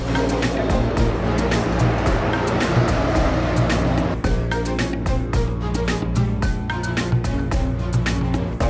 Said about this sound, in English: the BMW M3 E46 turns its rounds on the Arabian desert track